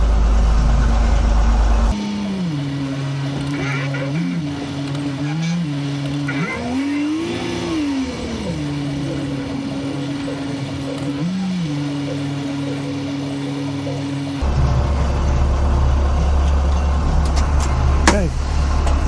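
A school bus converted into a skoolie turns around and backs in, its engine holding a steady mid-pitched hum with several rises and dips in revs, ending in louder, rougher rumbling.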